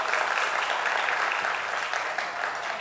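A church congregation applauds together in a steady, dense wash of clapping that holds at an even level for the whole stretch, with no voices rising above it.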